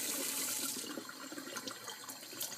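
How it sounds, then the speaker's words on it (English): Water poured over a baby's hair during a first bath, a close, steady splashing pour that fills the whole short stretch without any talk. "I'm going to rinse her hair out with this"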